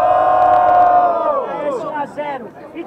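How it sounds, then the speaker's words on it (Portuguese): Crowd at a student rap battle in Guarulhos cheers and shouts loudly, a dense roar that fades into scattered whoops and yells. "Quem gostou das rimas do Cairóis faz muito barulho"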